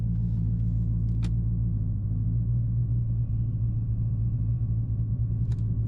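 Steady heavy rumble of a cammed Dodge Charger Hellcat heard from the cabin on the move, a close, deep, choppy drone with a couple of brief sharp clicks.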